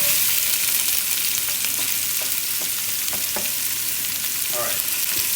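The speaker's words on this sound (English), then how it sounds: "throw it in there and see if it sizzles and bubbles" Onion pieces sizzle in hot oil, a steady close frying hiss with small pops and crackles, a spoon tapping the pan now and then.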